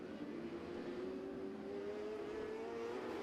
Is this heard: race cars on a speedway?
yes